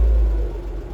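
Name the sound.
BMW E36 engine idling with lifter ticking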